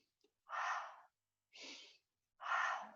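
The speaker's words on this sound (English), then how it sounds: "Inhale, exhale." Quick yoga breaths come in three short, forceful bursts of air, alternating inhale and exhale, close and clear, with silence between them.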